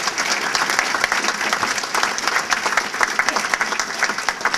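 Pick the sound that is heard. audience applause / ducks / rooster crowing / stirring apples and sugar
audience applause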